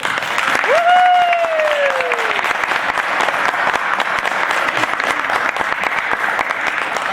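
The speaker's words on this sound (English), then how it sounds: "Let's give them another big round of applause, please." A school audience applauds student performers with sustained, even clapping throughout, while a brief sliding whistle-like tone cuts through near the start.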